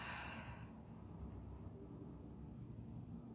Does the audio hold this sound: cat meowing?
no